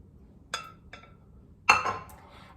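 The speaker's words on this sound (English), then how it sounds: "I'm just going to stir to combine all of this" A utensil stirs fried rice with soy sauce, vegetables and scrambled egg in a pan, making a few sharp clinks against the metal: two light taps, then a louder clatter near the end, with no talking.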